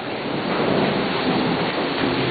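Steady heavy rain pours down with a low thunder rumble underneath, a dense continuous hiss filling the whole stretch without voices.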